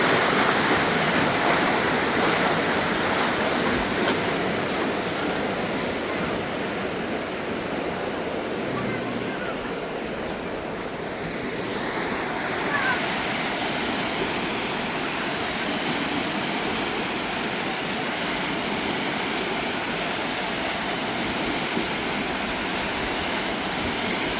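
A wave pool at the Zsóry thermal bath complex in Mezőkövesd, Hungary churns with continuous surging, splashing water, broad and steady with slight swells in intensity and no clear voices.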